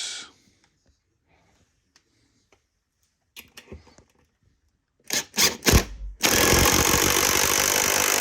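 A universal socket multi-tool on a power drill drives a lag screw bolt. After a few quiet taps and clicks, short bursts of whirring give way to a loud, sustained grinding run at the end.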